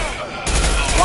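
Gunfire in the video game Mass Effect 2, heard as a dense burst of rapid shots that starts sharply and continues loudly, with a voice speaking over it.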